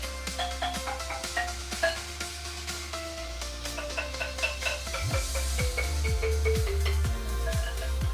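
Tuned bamboo bars hung from a string on a rubber-mounted rail ring in bright, sustained tones over a steady low drone, struck note by note and then in quicker repeated strikes.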